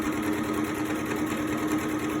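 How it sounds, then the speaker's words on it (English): A sewing machine running a straight stitch hums in a loud, continuous, even whir that holds steady throughout, close up and without pauses. "just a straight stitch straight down the middle"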